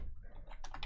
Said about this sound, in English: in here, you're going to want to type